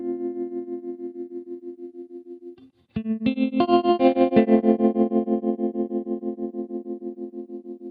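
An electric guitar runs through a TC Electronic Pipeline Tap Tremolo pedal, its held chords pulsing in quick, regular volume swells; one chord stops, a brief gap follows, then fresh strummed chords carry on with the same throbbing tremolo.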